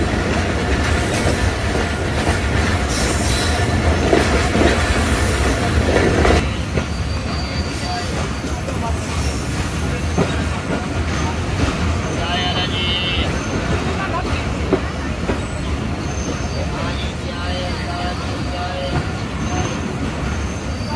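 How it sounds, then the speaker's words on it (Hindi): The Musa Pak Express train stands and moves at Sahiwal railway station in Pakistan, with loud continuous rumbling, wheel squeal and clattering rail noise throughout, heard close from on board. "ट्रेन हमारी साहिवाल रेलवे स्टेशन पर पहुंच चुकी है,"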